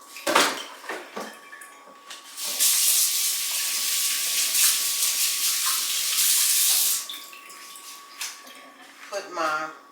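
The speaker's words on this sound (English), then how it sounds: "I'm gonna put my broth in." Broth pours into a soup pot for chickpea and kale soup, a steady liquid stream running for several seconds amid kitchen clatter of dishes and utensils, with brief speech at the start and end.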